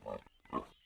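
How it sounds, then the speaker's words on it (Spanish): A pig oinks twice in a cartoon animal-name learning game for children, two short, close, voiced grunts separated by a brief pause. "¡Cerdo!"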